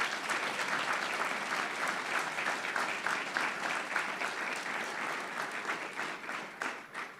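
A swearing-in ceremony audience applauds the town board with sustained, even clapping at a moderate distance, holding steady throughout and tapering a little at the close.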